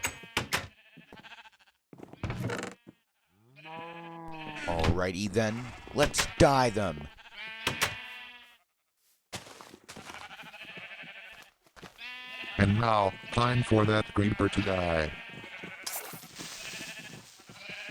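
Sheep in Minecraft bleat repeatedly in short wavering cries scattered through the scene, alongside a synthesized voice speaking and a few blocky game thuds.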